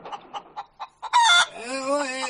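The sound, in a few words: chickens clucking and rooster crowing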